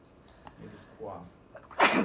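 A person speaks briefly, then a loud, sharp sneeze erupts at the end, close and sudden.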